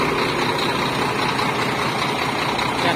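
A Scania R440 truck's engine running with an exhaust diffuser fitted, a loud, steady and dense rumble that holds evenly throughout, with no talk.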